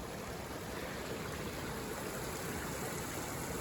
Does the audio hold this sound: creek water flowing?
yes